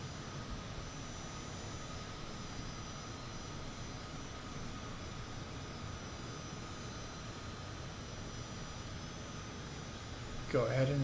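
A light aircraft engine climbing out after takeoff from Spencer Municipal Airport in Microsoft Flight Simulator 2024, a steady, even droning hum at moderate level that holds unchanged throughout, with a brief sharper sound right at the end.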